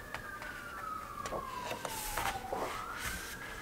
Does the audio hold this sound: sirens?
yes